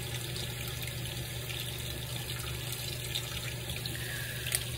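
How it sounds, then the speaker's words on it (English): Bathroom faucet running steadily as water rinses a soapy brush under the stream, a constant close splashing hiss with a low hum and no talking. "Rinse the brush off by putting it under the faucet while still on."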